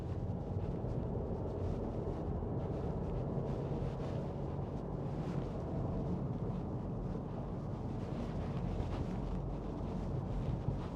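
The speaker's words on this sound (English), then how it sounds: "And here through the water splash." A 2019 Volkswagen Polo 1.0 TSI Match on an icy day drives through a water splash. A loud, continuous low rush of water and road rumble fills the scene from inside the car, with no talk.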